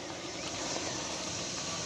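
An EFlite 90mm Viper RC jet makes a smooth pass, giving a steady, even turbine roar that stays faint and distant for the whole clip.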